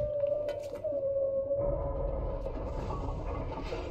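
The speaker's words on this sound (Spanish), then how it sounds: "ese es el sonido de una ballena, ¿no?" A deep, drawn-out whale-like moan echoes through the underwater city of Rapture in BioShock Remastered, sliding steadily over rumbling ambient machinery and creaks, with no talk.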